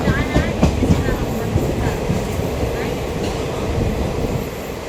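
A DEMU train pulls away from a station, its wheels rumbling and clattering loudly with a few sharp clacks near the start, then settling into a steady roll.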